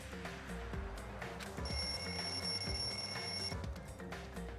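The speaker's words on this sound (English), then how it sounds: "The lounge's wall clock alarm started ringing at 5:30." A wall clock alarm rings in the lounge in Danganronpa 2, a bright high-pitched tone holding steady for about two seconds over a quieter musical backdrop.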